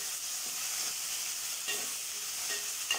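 Tomatoes and onions sauté in hot oil for a mutton curry, giving a steady, close sizzling hiss throughout with a few faint stirring scrapes and no voices.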